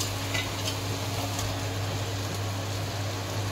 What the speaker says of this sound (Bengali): আদা রসুনের পেস্টটা একটু ভেজে নিয়ে